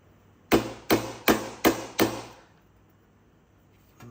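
Five evenly spaced, sharp hammer taps on 4L60E transmission servo parts, clear and close with short ringing decays, followed by quiet.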